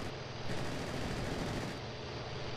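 Aircraft machine guns fire in an IL-2 1946 air combat game over the Kuban, a dense, continuous rattling burst that stays loud and close throughout, with no speech over it.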